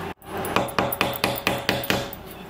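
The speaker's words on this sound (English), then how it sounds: "I am about to go get my little hammer and nail and put this up" Repeated hammer blows strike a nail in a steady rhythm, about seven sharp metallic knocks, close and fairly loud.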